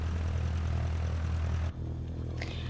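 Steady low propeller-engine drone of a Cessna 152 idling while taxiing in a flight simulator, continuous and fairly loud, briefly dipping near the end before settling into a softer hum.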